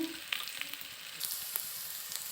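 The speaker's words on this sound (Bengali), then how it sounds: "এই যে পেঁয়াজ, লঙ্কা, রসুন সব ভাজে নিচ্ছি।" Steady sizzling and crackling of onion, chili and garlic frying in hot oil, with scattered sharp pops over a continuous hiss, close up.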